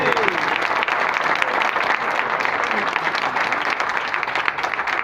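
Loud, dense applause from an audience at a network marketing training session in Delhi, continuous clapping that fills the whole stretch with a crowd murmur beneath it.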